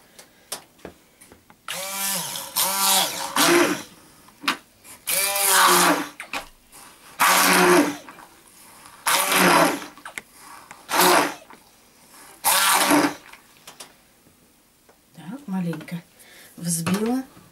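A blender whirs in repeated short pulses, about eight bursts separated by pauses, as watermelon is blended into a smoothie, with someone speaking between runs.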